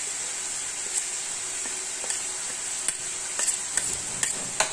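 Green chili dropped into a hot pan for homemade turnip bhurji gives a faint, steady sizzle with a few small crackles and pops throughout.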